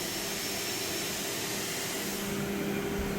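Spindle of a 2021 Doosan DNM 5700L CNC mill spinning at 12,000 RPM, a steady high whine with a broad airy rush, constant and moderately loud with no talk.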